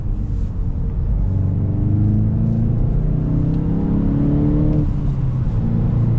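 A 2022 Volkswagen GTI Launch Edition accelerating hard from inside the car, a steady, loud engine drone whose pitch climbs through the pull, briefly drops at a gear shift, then rises again.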